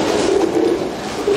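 A racing pigeon coos softly inside a loft, a low rolling murmur repeated in short pulses over a steady background wash, heard close and without any talk.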